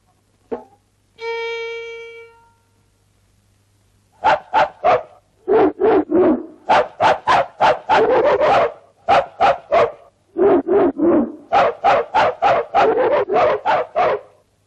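First a short sound, then a held whistle-like tone, then a long run of quick, loud barks. They come in several close-set clusters with brief pauses, and no talking is heard.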